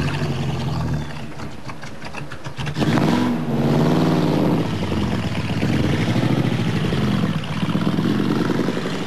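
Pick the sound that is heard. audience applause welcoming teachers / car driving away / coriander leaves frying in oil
car driving away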